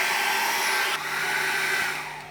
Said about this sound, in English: I'm going to really dry that with a hairdryer now